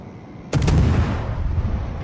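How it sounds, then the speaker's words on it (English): A single heavy cannon blast from a Gearing-class destroyer's guns in a naval combat game: one sharp, booming report followed by a rumbling, fading tail, with no voices. "And I'll get the guns working."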